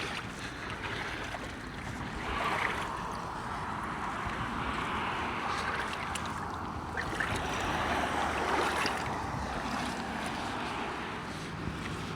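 The Eel River at flood stage near Fernbridge after storms, a broad steady rush of fast water with wind buffeting the microphone, continuous and moderately distant, with no voices over it.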